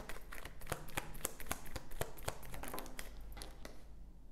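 Quiet, rapid riffling of tarot cards being shuffled, a quick run of crisp flicks and taps close by with no talking.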